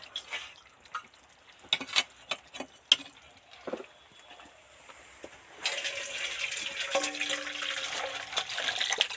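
Finished Bengali fish curry (macher jhol) made with fresh catla fish and vegetables is poured out of a pan: scattered clinks and taps at first, then a steady close liquid pour and splash for the last few seconds.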